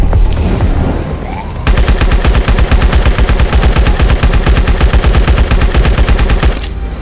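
Rapid automatic gunfire in the survival game LifeAfter, a long loud sustained burst of evenly spaced shots lasting several seconds after a brief quieter lead-in, then stopping abruptly.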